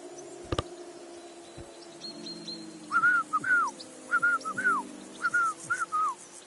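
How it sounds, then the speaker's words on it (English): A character in Kingdom Come Deliverance 2 whistles a tune in short, repeated two-note phrases with brief pauses, clear and fairly close over a faint, quiet game ambience. "Your whistling is getting on my fucking nerves the whole way"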